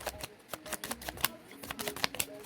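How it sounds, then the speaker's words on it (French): Tarot cards being shuffled by hand from a nearly depleted deck, giving a quiet run of soft, irregular papery flicks and riffles with no voices. "là il reste très peu de cartes, donc à battre c'est pas très marrant"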